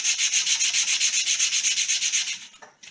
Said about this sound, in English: I usually only sand it with the 100 grit